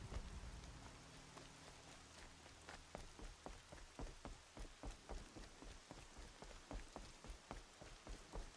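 Rain falling in the Horizon Zero Dawn game, a steady close patter on surfaces with regular heavier drips tapping in a rhythm, and no talking.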